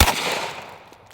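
One loud, close unsuppressed gunshot from a long-slide 10mm Glock pistol, a sharp blast followed by a ringing, fading echo tail, alone with no talk.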